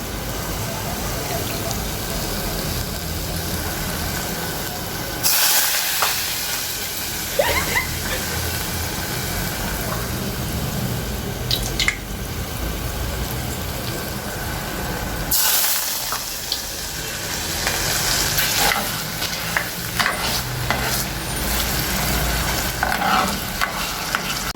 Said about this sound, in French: je vais prendre l'huile chaude de poisson là, pour mettre ça dans le piment qu'ils sont en train de faire là